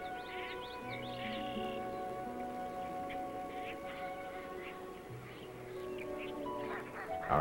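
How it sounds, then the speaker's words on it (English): A family of mallard ducks swims on wilderness water in the early morning. Soft quacks and calls repeat at a moderate distance over the steady background. "Our crew shares the wilderness morning with a family of mallards out for an early swim."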